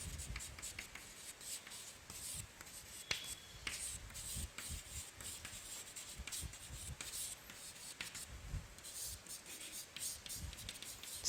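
A teacher writes on a board in a chemistry lesson, with soft, irregular scratches and taps of the chalk or marker, quiet and close, in short strokes with small pauses.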